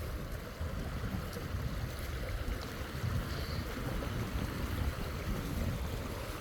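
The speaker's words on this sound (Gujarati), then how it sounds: "ભૂકા કાઢી નાખે એટલું પાણી આવે." Rushing floodwater from heavy rain pours loudly and steadily in a continuous broadband roar throughout, with no voices.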